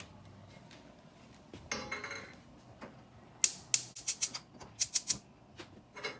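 Whole black mustard seed, cinnamon, cumin seed, coriander and cloves toast over medium heat in a small skillet: a faint rustle, then a quick scattered run of sharp little clicks and rattles as the seeds shift and pop.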